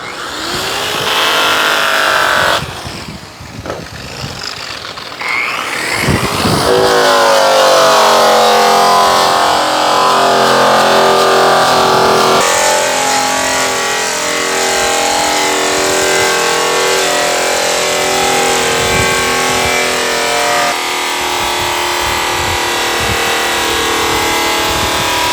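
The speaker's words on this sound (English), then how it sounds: "When I spray compound onto it, I like to kind of use the buff to spread it out." A rotary buffer spins at 3,500 RPM against an aluminum grille coated with polishing compound, giving a loud, continuous whine that shifts in tone as the pad presses and moves, and no one speaks over it.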